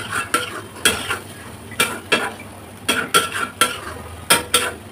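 A utensil stirs and scrapes chepa shutki (dried fish) bharta in a pan over low heat, giving a dozen or so sharp, close clanks at an uneven rhythm over a faint sizzle, with no talk.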